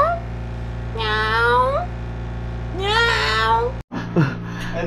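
A cat lets out two long, drawn-out meows close by, and then a person speaks briefly over a steady low hum.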